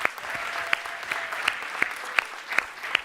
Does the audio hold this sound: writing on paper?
no